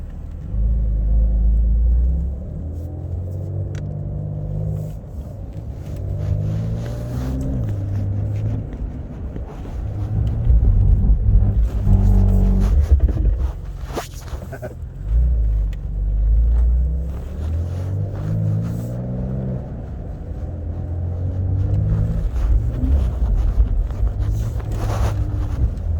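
Porsche on a racetrack, its engine rumbling and rising through repeated accelerations with stepped gear changes, steady loud drive noise with wind buffeting the microphone throughout.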